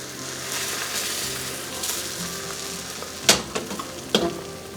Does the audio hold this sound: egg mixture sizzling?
yes